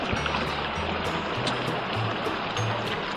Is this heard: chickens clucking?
no